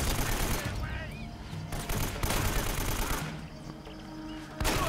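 Enemy machine gun fire in Uncharted: Drake's Fortune rattles in steady bursts through a dense game soundscape, with periodic louder volleys and ongoing combat noise.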